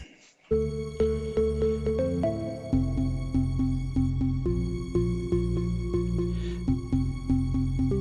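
A synthesizer melody, the main theme of a house track composed in OpenMPT, plays a repeating pattern over a steady beat with a deep bass line, loud and continuous, with no voices.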